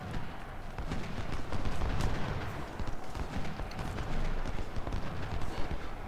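Horses gallop amid gunfire in the Ultimate General: Civil War video game, a dense continuous wash of hoofbeats, musket volleys and battle din during the Battle of Chancellorsville, without pause.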